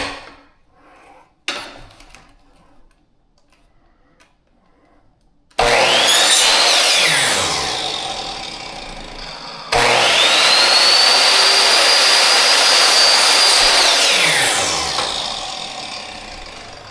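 A power miter saw cuts crown molding in two loud runs, each a whining spin-up into a sustained cut followed by spin-down, after quiet clicks and handling knocks.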